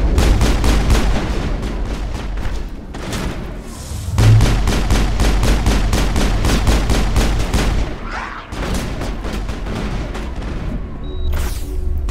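Rapid bursts of rifle fire from the video game Mass Effect on the Xbox 360, loud and continuous, with repeated sharp cracks and booming impacts that run almost the whole time, pausing briefly near the middle and again near the end.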